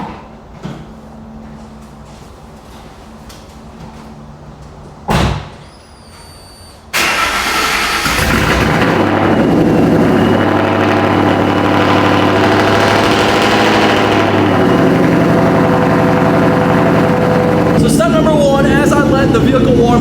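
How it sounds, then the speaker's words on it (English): A vehicle engine turns over in a garage, with a brief mechanical clunk and a whine beforehand, then settles into a loud, steady idle as it warms up for about thirteen seconds. "The vehicle warm up before I pull out of the garage."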